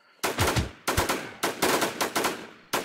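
Bursts of automatic gunfire in the video game The WarZ come in five or six rapid, sharp, close volleys separated by short gaps.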